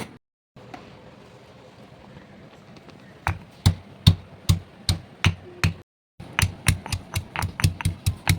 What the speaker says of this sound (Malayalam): ഇനി നമുക്കൊന്ന് ചതച്ചതിനകത്ത് നമ്മുടെ ഈ കല്ലിനകത്തൊന്ന് ചതച്ചെടുക്കാം